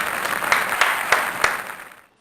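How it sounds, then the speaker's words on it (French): Brief studio audience applause on a French talk show, a short burst of clapping with a few sharper claps, fading out quickly into silence. "veuillez applaudir Madame Bombs"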